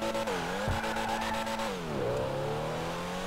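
A Pfister Comet S2 sports car in the game GTA Online revs hard under acceleration, its engine and exhaust droning steadily with rising and falling pitch through gear changes, loud and continuous with no talk.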